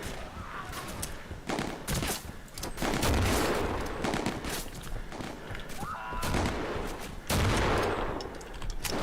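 Mortar fire in a video game set in Eastern Europe, with repeated thumping blasts and scattered gunfire rumbling through a busy battlefield mix, some louder impacts standing out.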